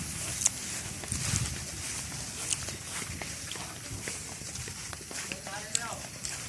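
A horse's hooves clip-clop on a coconut farm, with footsteps and light knocking against a noisy outdoor background while people talk throughout.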